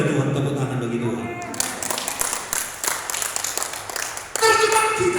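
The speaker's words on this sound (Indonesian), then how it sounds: "tepuk tangan bagi Tuhan" Congregation clapping during a church service, a dense burst of applause that swells in after a moment and continues for a few seconds alongside a voice and music.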